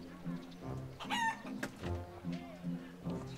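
Chicken clucking in the Wallace & Gromit video game, a few short clucks and squawks mixed with a brief crowing-like call, moderately loud against game music.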